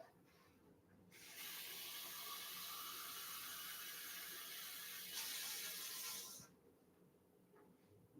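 Water running from a kitchen tap while cooking, a steady hiss that starts abruptly, pours for about five seconds and stops, fairly quiet and close with no talking over it.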